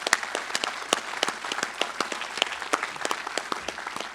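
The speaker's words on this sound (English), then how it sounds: "can we just give Joe another round of applause?" An audience claps for a speaker at a signing-day event, a dense, even round of applause throughout, moderately loud and without speech.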